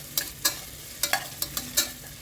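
Onions with salt sautéing in a pan for chana pulao, heard as a few sharp stirring scrapes and clinks at irregular intervals over a faint low sizzle, close and fairly quiet.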